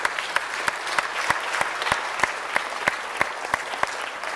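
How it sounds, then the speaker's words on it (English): An audience at a regular city council meeting claps steadily, with sharp individual claps standing out above a dense wash of applause throughout. "Let's give them a round of applause."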